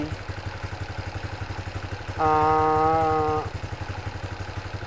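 An engine idles steadily after a restart, with the choke-like enrichment still feeding extra fuel, during injector cleaning on a stock ECU. It gives a close, even, rhythmic chug throughout, broken midway by a brief loud harmonic tone; no talking.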